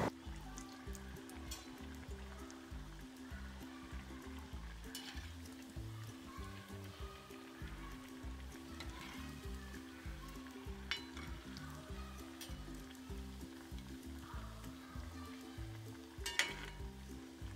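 Patties of pre-cooked sweet potato fry in a pan over a medium flame, giving off a soft, steady sizzle with faint crackles, quiet and close, with no talking.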